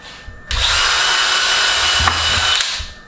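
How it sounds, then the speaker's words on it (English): A power drill bores pilot holes in wood for the cross braces of an over-garage-door storage rack. It is a loud, close, steady whine that starts abruptly and runs for about two and a half seconds. "I'm going to drill a couple of holes."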